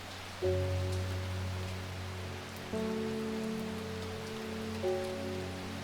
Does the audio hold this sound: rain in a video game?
yes